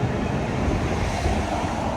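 Continuous rushing wind at Venice Beach, California, buffeting the microphone, a broad steady roar with no voices.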